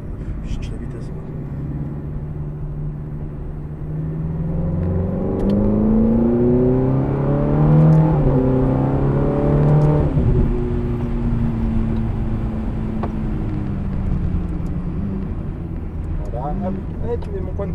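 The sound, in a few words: car accelerating while the driver searches for a gear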